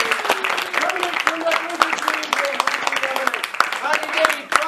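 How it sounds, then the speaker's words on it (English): Audience applause for Dominic at a live stage show, steady clapping with scattered sharp claps and a voice talking over it throughout. "Ladies and gentlemen, a big round of applause for Dominic."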